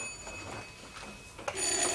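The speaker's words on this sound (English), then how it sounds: "Don't answer that phone." A telephone bell rings indoors in a British sitcom home, a brief muffled trill that rises near the end over a faint room hiss.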